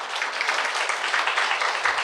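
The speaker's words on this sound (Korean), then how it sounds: "우리 대한감정평가법인 김진만 이사님께 뜨거운 박수 부탁드리겠습니다." Brief, loud, steady applause fills a room during a residents' briefing on a neighborhood redevelopment project, a dense wash of clapping with no voices.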